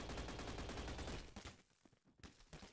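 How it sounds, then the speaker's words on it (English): Gunfire crackles in the Roblox game Arsenal as many players shoot at once. A dense burst of rapid shots is followed by sparser, fainter shots, all fairly quiet in the mix. "So many people shooting at me!"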